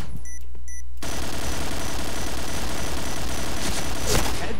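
Dense, continuous gunfire and sniper shots from the online shooter Point Blank fill a loud, busy mix after a brief menu-like opening, with a sharper shot standing out near the end.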